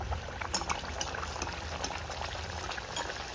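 Puri dough frying in hot oil gives a steady close bubbling sizzle with crackling pops throughout, and no voices.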